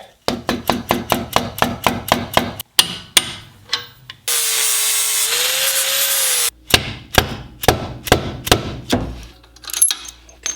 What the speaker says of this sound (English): And probably have to beat it into place here.